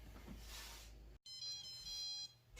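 A sous vide cooker's timer alarm signals the end of a steak cook with thin, high electronic tones after a brief cutoff, set against a soft background hiss in a quiet kitchen.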